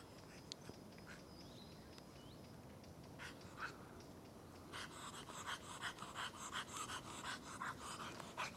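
A tracking dog pants after finishing a search at a scent-dog training centre, faint rhythmic huffs that grow quicker and more pronounced in the second half.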